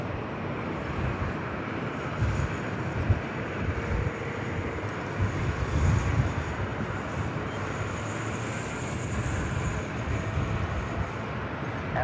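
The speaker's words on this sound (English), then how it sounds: "Next arrival is Southwest Airlines Flight 1597 coming in from Kansas City." A Southwest Airlines Boeing 737 MAX 8 arrives at LAX, its jet noise a continuous, moderately distant rumble and whine blending with background traffic.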